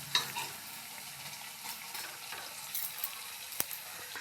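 Urad dal vadas fry in hot oil, a soft, steady crackling sizzle with faint scattered pops and one sharper click, fairly quiet and with no voices.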